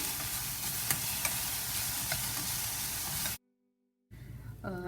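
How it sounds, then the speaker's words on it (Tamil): Mushroom stuffing with chilli powder and salt sautés in a pan with a constant close hiss and sizzle. The sound cuts out abruptly into silence, then returns briefly and more softly. "சேர்த்திட்டு நல்லா சாட்டே பண்ணிக்கிறேன்."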